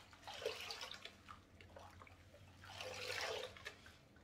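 Wig being washed by dipping it up and down in a basin of water, with soft sloshing and swishing surges that rise and fall, the strongest near the end, close and fairly faint with no talking.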